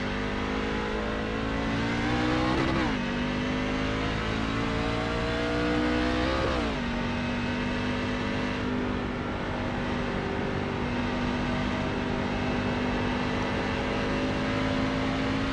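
Race truck engine at full throttle around Rockingham Speedway in a racing video game, a continuous loud drone with two brief pitch dips and recoveries as it lifts and reaccelerates through the turns.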